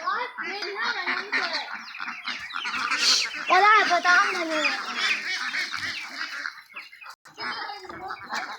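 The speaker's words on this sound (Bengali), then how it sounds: "এই যে মুরগিগুলো বড় সেটে যাচ্ছে" Farm chickens cluck and squawk loudly and close by as they are shifted into a larger shed, a busy overlapping flock chorus with a voice talking over it at times.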